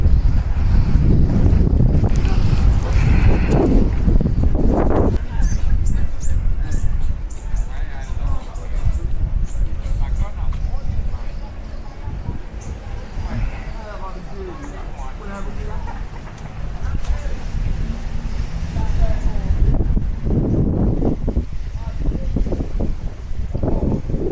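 Strong seaside wind blows on Praslin in the Seychelles. It makes a loud, continuous rumbling buffet against the microphone that swells and eases over time.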